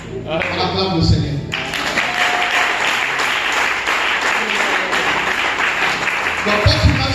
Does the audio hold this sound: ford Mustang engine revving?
no